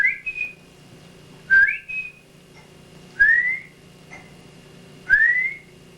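A person whistles a short rising two-note call imitating a quail, repeated four times with pauses between, clear and close in a quiet room.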